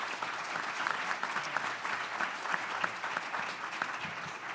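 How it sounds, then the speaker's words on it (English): Audience applause for the panelists at a Massachusetts jobs and workforce summit, a dense, even wash of many hands clapping steadily from a distance at a fairly low volume, with no one speaking over it. "So we just want to give our panelists a round of applause."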